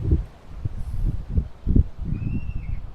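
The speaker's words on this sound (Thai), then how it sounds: "โอ้ยลม" Gusty wind buffets and rustles through leafy trees around a rural Lao village home, coming in uneven low rumbling surges with a faint thin tone briefly above.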